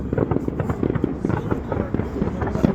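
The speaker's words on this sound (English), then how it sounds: "the fireworks have started" Fireworks crackle and pop in a dense, continuous barrage at a baseball game after a home opener walk-off win, loud and close, with crowd noise and a voice mixed underneath.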